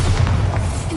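Bombarda blasting spell going off in Hogwarts Legacy, a single loud, close explosive boom with a heavy low-end thump and a short rumbling tail.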